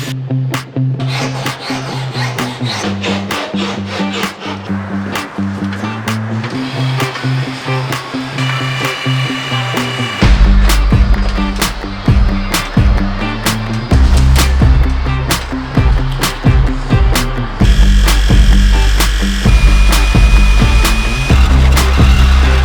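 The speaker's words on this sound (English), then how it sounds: "Cutting the first big hole in the van." Power tool cutting a big hole through a van's sheet metal body, a loud, harsh buzzing and grinding with sharp clicks and bangs, growing heavier and deeper midway, very close.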